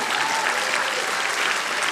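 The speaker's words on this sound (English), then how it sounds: "Let's clap." Steady applause from a large crowd at a nursing graduation ceremony, a dense, even wash of clapping that fills the whole moment without pause.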